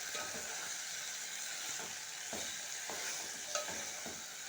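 Chopped capsicum stirred in a frying pan under a continuous soft sizzle, with faint, regular scraping strokes of the spoon about every half second.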